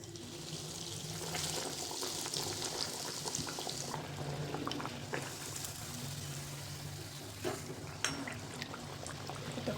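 Veg burger patty frying in hot oil on full flame, a steady crackling sizzle with scattered pops, close and continuous throughout.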